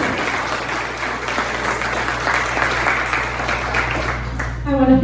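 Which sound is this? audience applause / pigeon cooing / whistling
audience applause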